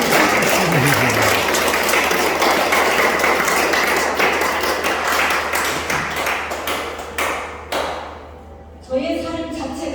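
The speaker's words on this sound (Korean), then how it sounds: "박수 한번 쳐주시죠." An audience at a solo art exhibition in an Insadong gallery claps steadily as a dense, sustained wash of applause that thins out toward the end, with a brief voice near the close.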